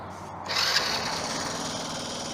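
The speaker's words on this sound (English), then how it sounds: "It is running perfect now, as you can see. Start it up again. She just wants to run." A 1982 Honda C70 Passport motorcycle engine with a freshly rebuilt original carburetor starts up and runs at a steady, even idle, a continuous mechanical hum that stays close and constant throughout.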